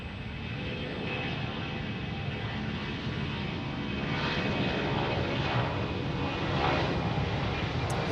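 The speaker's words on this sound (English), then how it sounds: "Listen to those engines roar." A Boeing 757 airliner bound for Atlanta roars steadily past at Tampa International Airport, its engine noise a broad continuous rumble that swells slightly toward the end, with no talking.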